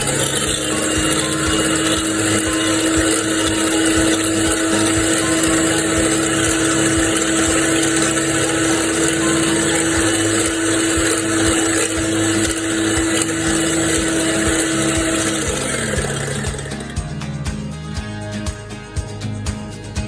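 Electric beater whirring steadily through marble cake batter, a loud continuous motor drone that holds for most of the stretch, then cuts out and leaves rattling, clattering sounds.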